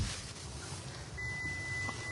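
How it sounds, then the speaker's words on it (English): Inside a car, a steady electronic beep starts partway through and holds as a sustained tone over the low rumble of the moving vehicle. "that's a loud beep"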